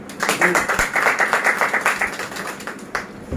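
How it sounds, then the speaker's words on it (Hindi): Hands clapping at a poetry gathering in a Lahore hall as a poet is welcomed, a rhythmic run of fairly loud claps with voices underneath. "मेरी मुराद जनाब दानिश अजीज़ साहब से है कि वो आए और अपना कलाम दोस्तों की भरपूर तालियों में है।"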